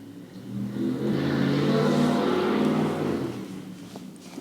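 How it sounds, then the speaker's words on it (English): A loud truck passes outside on the road during a quiet indoor yin yoga session, its engine rumble swelling over about a second, holding heavy for a couple of seconds, then fading away as it moves off. "loud truck out there"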